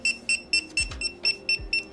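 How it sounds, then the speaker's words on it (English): A small Bluetooth item tracker, set off through the iSearching app, sounds a loud close electronic alarm: a run of about eight short, evenly spaced high beeps with a few faint thumps beneath. "And then this thing will start beeping."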